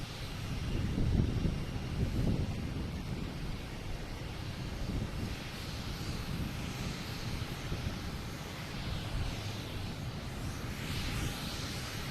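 An American Airlines A321 airliner on approach to land at Boston Logan, arriving from LAX, gives a steady broad engine roar mixed with gusty wind rumbling across the microphone, sustained and fairly distant.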